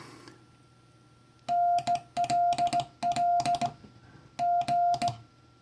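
Morse code word 'me' sent with paddles in a steady sidetone, four quick keyed groups of dahs and dits in an even rhythm, clear and close with faint background hiss.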